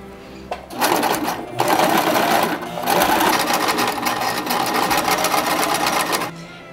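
A sewing machine runs loud and close, sewing along the folded fabric edges of a bow tie in long continuous runs with brief pauses between them.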